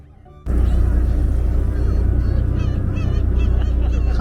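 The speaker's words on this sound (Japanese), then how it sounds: "海猫？ 海猫ですか。" Black-tailed gulls call in wavering cries beside an oyster raft off Rikuzentakata, Iwate, over a loud, steady boat-engine rumble that starts abruptly.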